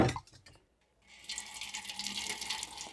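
A short splash, a pause, then water pouring steadily into a container to rinse out a chemical, a continuous close splashing rush.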